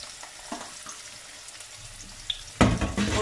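Onions with black pepper and cardamom frying in a pan for a spicy chickpea curry, a soft sizzle with faint stirring that swells into a louder, closer burst of frying near the end.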